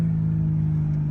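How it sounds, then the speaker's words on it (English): A 500 hp Toyota Supra engine held at a steady, loud droning rev while brake boosting, a close, continuous hum lasting about a second. "was trying to brake boost it, but fuck"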